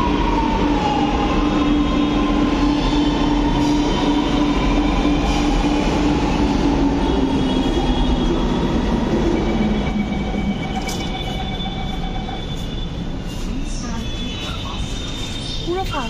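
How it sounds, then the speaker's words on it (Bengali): A Lucknow Metro train pulls into a station, a loud steady rumble with rising wheel squeal and whine that eases as it slows, with voices talking faintly in the background. "এই যে আমাদেরও ট্রেন এসে গেছে এদিকে।"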